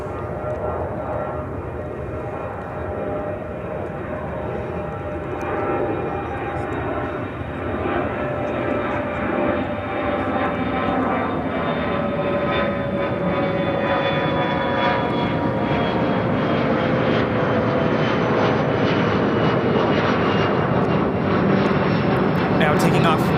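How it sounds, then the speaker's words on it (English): United Express CRJ 200 LR jet taking off from runway 28 right at Chicago O'Hare, a loud engine roar with a high whine that builds steadily and stays strong, while a voice talks over it. "Taking off 28 right, United Express 5335 taking off to Huntsville on the CRJ 200 LR"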